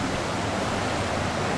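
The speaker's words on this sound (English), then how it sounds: "this is where you can get really up close to the river and stick your footsies in" River water along the Estes Park Riverwalk in Colorado rushes in a dense, loud, even roar, close by and constant, with no voices over it.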